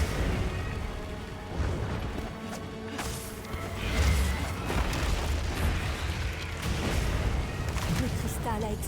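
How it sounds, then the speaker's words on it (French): Booming blasts and crashes as a crystal explodes during a fight with a rampaging monster in Monster Hunter Wilds, several heavy impacts layered over constant game noise and music, with someone speaking over the action. "Le cristal a explosé. Ça doit être à cause de ce souffle."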